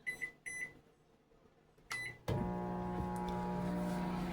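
A microwave oven set for popcorn gives a few short keypad beeps, then starts with a click and runs on with a steady, close mechanical hum and whir.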